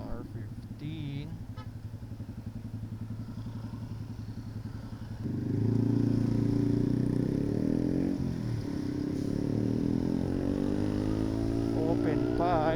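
A Yamaha R15 motorcycle fitted with an open pipe exhaust runs steadily on the road, its loud buzzing drone swelling sharply about halfway through as the rider accelerates, with faint speech at times.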